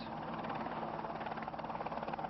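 A news helicopter flies overhead, its rotor giving a steady, dense, buzzing drone with a fast pulsing texture, loud and continuous throughout with no talk.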